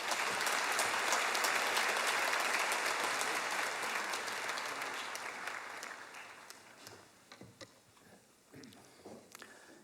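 A church congregation in Daegu applauding to welcome a visiting pastor at a special early-morning revival prayer service: full, sustained clapping that gradually thins after about six seconds into scattered final claps.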